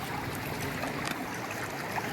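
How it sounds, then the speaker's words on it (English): Water flowing in a small desert stream on a hiking trail in Saguaro National Park, heard as a steady, soft broadband rush and trickle with no break. "Record the stream and the splash."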